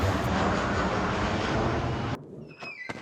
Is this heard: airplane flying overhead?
yes